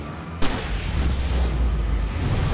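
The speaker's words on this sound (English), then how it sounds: "My flare gun." A single sharp shot from a flare gun in Alan Wake Remastered cracks out near the start, followed by a hissing, sustained roar as the flare burns on under low game ambience.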